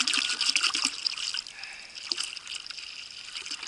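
Maple sap trickling steadily from a tapped tree outdoors, a soft continuous watery dribble with small splashy drips, close and fairly quiet, no talking.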